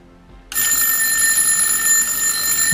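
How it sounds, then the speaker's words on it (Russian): Alarm bell in an electrical distribution panel goes off when mains power returns: a sudden, loud, continuous electric ringing that starts after a quiet half second and holds steady to the end. "У нас срабатывает звонок."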